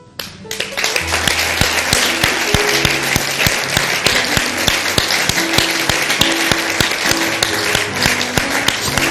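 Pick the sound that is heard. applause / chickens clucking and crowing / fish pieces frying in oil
applause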